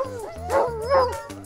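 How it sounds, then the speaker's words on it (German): Huskies at a sled dog kennel whimper and howl eagerly, rising and falling whines close by with overlapping cries. "Am liebsten würden sie natürlich alle mitkommen, aber meine Wanderbegleitung heute ist Suka."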